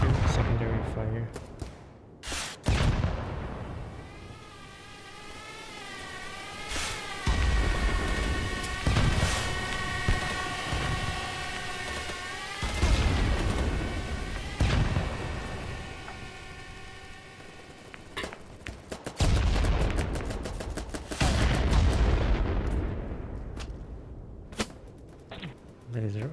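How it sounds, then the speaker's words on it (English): Secondary fire in a video game: sustained loud synthetic weapon fire with pitched whining tones and repeated sharp bursts, continuing across the whole stretch with short breaks. "Shoot, secondary fire."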